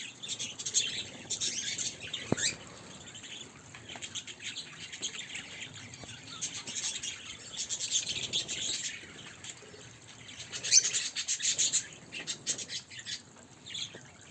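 Kakariki parakeets in an outdoor aviary chirp and squawk in scattered bursts, some close and loud, others softer, over a quiet background after rain.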